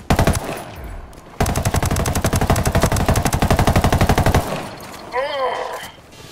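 Sustained automatic gunfire in the video game Ghost Recon Wildlands, a loud, fast, even burst of shots lasting several seconds, followed by a short sweeping electronic warble near the end.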